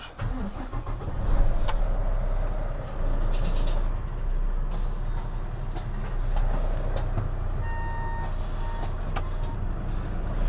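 A truck engine idles with a steady low rumble and rattle that carries loud and close for the whole stretch, with intermittent beeps above it. No clear shutdown is heard.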